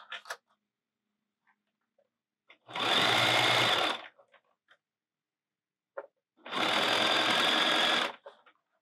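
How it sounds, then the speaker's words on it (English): A sewing machine stitching a binding that holds mesh onto a bag: two loud, even bursts of rapid motor-driven stitching, each about one and a half seconds, separated by quiet handling clicks and pauses, with no speech. "what this is doing is binding in the mesh"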